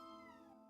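A pet cat gives a single drawn-out meow, faint and somewhat distant, heard alone without talk.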